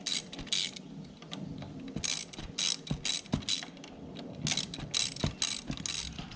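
Ratchet clicking in repeated bursts while fitting handlebar clamps on a Yamaha FZ1 motorcycle, close and fairly loud, with short pauses between strokes.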